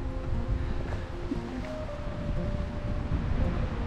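Strong wind blows steadily across a mountain trail near Chiavenna in Valchiavenna, a loud, continuous roar with buffeting against the microphone, with no voices.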